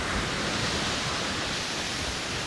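Waterfall on a trail near Kings Peak on Vancouver Island, a loud, dense, unbroken roar of falling water heard up close with no voices.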